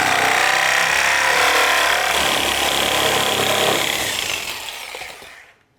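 A power saw cuts through screws in basement framing wood, a loud, close, continuous grinding whine that fades out toward the end.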